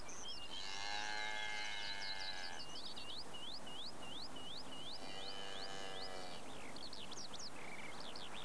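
Cattle low in long drawn-out moos, two calls separated by a pause, in summer in Hokkaido, while birds chirp and trill steadily throughout over a soft outdoor hiss.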